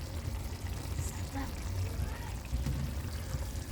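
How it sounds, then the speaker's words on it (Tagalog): Water pouring into a cooking pot while making chicken with mushroom, a steady splashing stream that runs close and continuous for a few seconds. "Lagyan natin ng tubig."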